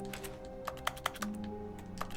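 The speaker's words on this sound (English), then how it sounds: "so the keyboard sounds follow me" Keyboard typing in The Stanley Parable: a quick run of crisp key clicks with a few louder taps, heard steadily over a soft in-game ambient hum.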